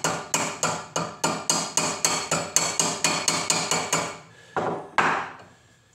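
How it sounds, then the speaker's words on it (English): Hammer striking a copper cup handle to knock down its sharp corners, a steady run of about fifteen evenly spaced sharp metallic blows, close and loud, followed by two slower final strikes and fading ring. "give it a little smack with a hammer and knock the sharpness out of it"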